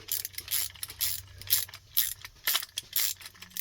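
A ratcheting antenna mast base clicks in quick repeated bursts of sharp metallic ratchet pawl clicks, close up, with no talking.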